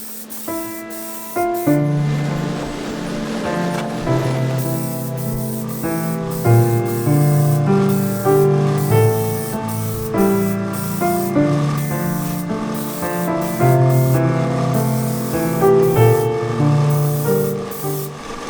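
An airbrush sprays primer onto the hull of a Revell 1/400 scale RMS Titanic model in steady, close hissing bursts, with music playing throughout.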